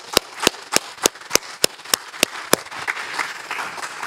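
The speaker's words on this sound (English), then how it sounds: "Let's give God a hand clap of praise." A church congregation claps in praise, about nine sharp, evenly spaced claps in unison at a brisk beat, then softer, looser clapping trailing off.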